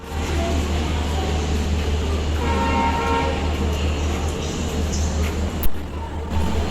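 Inside a railway station, a train rumbles with a steady low hum and a brief horn toot, with a sharp clank near the end and faint crowd noise underneath.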